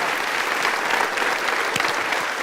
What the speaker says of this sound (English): Another round of applause for Juicy.